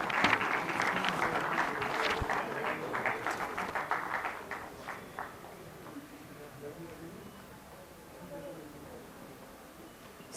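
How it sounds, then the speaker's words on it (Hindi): An audience at a Chandigarh Swachh Bharat award ceremony applauds for prize winners, a burst of clapping that thins and fades out over about five seconds, leaving a quiet hall with faint background murmur. "कृपया तालियों की गूंज बनाए रखें।"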